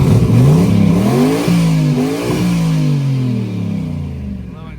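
LS V8-swapped Ford Crown Victoria fitted with an inexpensive Amazon turbo, revving up and down several times up close, the engine note rising and falling in loud, continuous sweeps.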